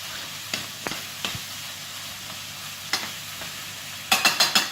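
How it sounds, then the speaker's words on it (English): Peppers, onion, garlic and ginger cook gently in a pan for a chicken tagine, with a soft steady sizzle under occasional spatula taps and scrapes and a quick burst of clattering stirs at the end. "into the pan I'm going to put the peppers, the onion, the garlic and the ginger. And I'm going to cook those gently"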